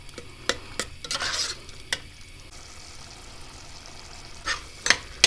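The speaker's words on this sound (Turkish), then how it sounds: "Bir karıştıralım yemeğimizi." A spoon stirs a pot of dried okra stew with meat, sharp scrapes and knocks against the pot over a low simmer, clustered at the start and the end.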